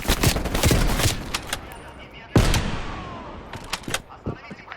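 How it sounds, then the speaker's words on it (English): Turret machine-gun fire in the video game Call of Duty Black Ops Cold War, rapid close bursts of gunshots with a heavy blast midway and scattered shots after, while game soldiers shout in the background. "Find cover, that turret will tear you up."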